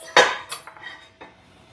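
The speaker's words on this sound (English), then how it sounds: "Here's our forks and a knife." Metal forks and a knife clink against plates while a sheet pan dinner of parmesan pork chops is served, a sharp bright clatter followed by a few lighter taps, close by with no talk.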